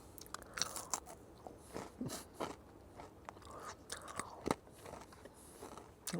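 Crunchy home-cooked snacks are bitten and chewed up close, with loud irregular crunches and scrapes repeating through the stretch and nobody talking.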